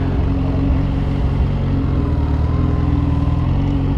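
Kawasaki Z H2 motorcycle engine idling while being parked, a loud, steady low rumble that holds continuously close to the microphone with no talk over it.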